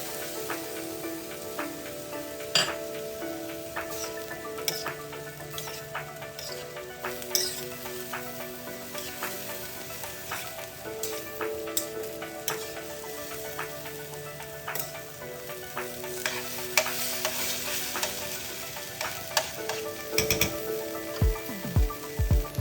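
Vegetarian fried rice tossed with soy sauce in a hot pan, giving a steady crackling sizzle with scattered clinks and scrapes of the utensil against the pan throughout.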